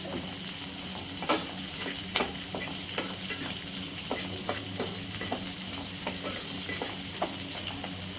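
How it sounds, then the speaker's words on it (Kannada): Green chillies frying in oil for brinjal masala gravy, a continuous bright sizzle broken by regular scraping taps of a spoon stirring the pan, close and without talk. "ಹಸಿಮೆಣಸಿನ್ಕಾಯಿ ಹಾಕೊಳ್ತಿದ್ದೀನಿ, ಇದು ಸ್ವಲ್ಪ ಫ್ರೈ ಆಗಲಿ ಎಲ್ಲ"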